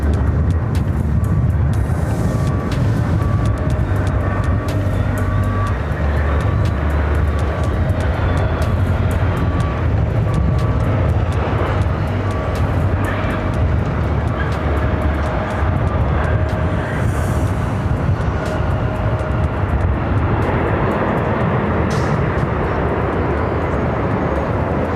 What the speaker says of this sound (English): That flight coming up from Boston, another old TWA 757 at 200.